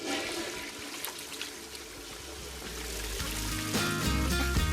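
A toilet flushes with a loud rush of water that swells and gurgles continuously, close by, with no talking.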